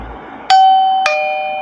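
The default first ringtone of an AOSU wireless video doorbell chime sounds as a two-note electronic ding-dong, close and clear with a sustained tail, over a quiet room.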